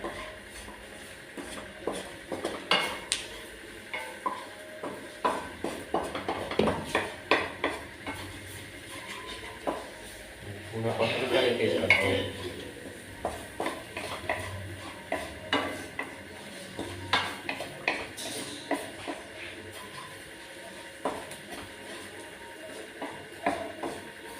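Masala being roasted with onions in a pot over low gas, stirred with a utensil that scrapes and clinks against the metal in irregular bursts, with a soft sizzle underneath.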